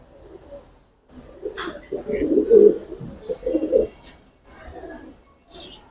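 Giribaz high-flyer pigeons coo repeatedly in low, throaty murmurs, with soft higher chirps scattered above, fairly close and steady throughout.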